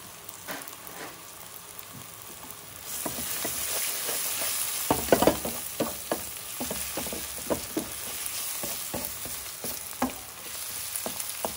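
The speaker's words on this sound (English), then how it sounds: "Now let that garlic lose that rawness on the heat of the oil." Garlic and onions fry in hot oil for a British Indian restaurant–style lobster and king prawn garlic chilli dish, with a steady close sizzle that swells partway through, broken by frequent stirring clicks and scrapes of a utensil.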